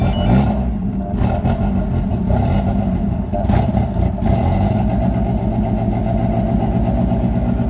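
A DSM 2G engine with the idle air control deleted idles on a cold start with light throttle held, a loud, steady, rough rumble throughout with faint talking underneath.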